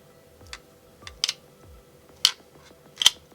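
Several crisp little snaps and clicks, four distinct ones spaced about a second apart, close and quiet, as the magnetic lid of a Soundpeats Free2 Classic earbud case shuts.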